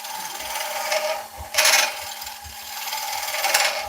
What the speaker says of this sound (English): Bowl gouge.